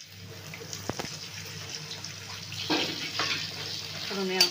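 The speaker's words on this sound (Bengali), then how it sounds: "লঙ্কা, জিরে, তেজপাতা আর এলাচ, লবঙ্গ, দারচিনি দিয়ে দিচ্ছি ফোড়নে" Whole chilli, cumin, bay leaf, cardamom, clove and cinnamon crackle faintly in hot oil as a tempering, with soft sputters and a couple of sharp pops, quiet and close.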